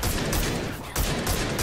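Automatic weapon fire in the first-person shooter Rage 2, rapid continuous bursts filling the mix with a brief gap in the middle.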